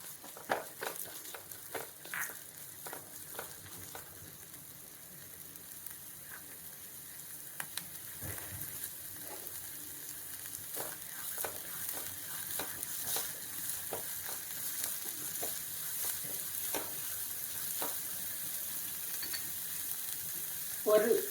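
Chopped onion tipped into a hot oiled pan for veggie egg paniyaram, giving a steady sizzle with scattered clicks and stirring scrapes throughout.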